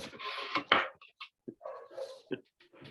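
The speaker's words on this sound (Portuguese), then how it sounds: "Tem um áudio aí que tem um cachorro animado aí." An excited dog gives a rapid string of short barks, yips and whines at close range, in irregular bursts with brief gaps between them, sounding lively and eager.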